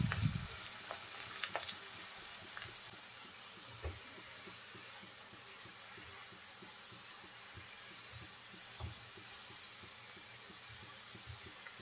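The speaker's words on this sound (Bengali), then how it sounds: "এখন এই পেঁয়াজটা আমি লাল করে ভেজে নেব।" Chopped onions frying in oil for egg chicken biryani, a soft continuous sizzle, fairly faint, with a few louder stirring knocks near the start.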